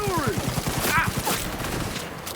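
Rapid automatic fire comes from a corrosive assault rifle in Cyberpunk 2077 Phantom Liberty, a dense burst of repeated shots with electronic game effects layered over it.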